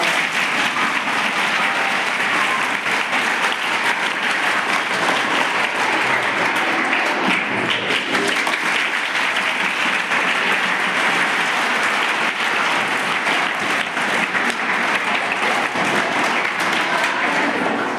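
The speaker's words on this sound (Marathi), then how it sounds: "तुमच्या सगळ्या टीचर्ससाठी टाळ्या वाजवा." An audience at an event applauds its teachers, dense sustained clapping from a large crowd held at an even, loud level throughout.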